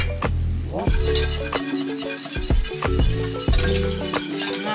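Whisk scraping and clinking against a pot as a thickening agent is worked into a cheese sauce for mac and cheese, with repeated strokes and metallic taps close up over a faint sizzle.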